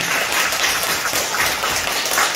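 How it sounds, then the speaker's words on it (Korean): A church congregation at a Sunday service applauding its youth group, giving a dense, even wash of clapping throughout with no talk over it. "우리 청년들 우리 박수 한번 보내주시기 바랍니다"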